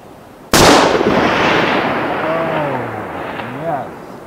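A single sharp .308 Winchester rifle shot with a 180 gr bullet, close and loud, cracks out at a range, then a long rolling echo decays for several seconds with faint background hum.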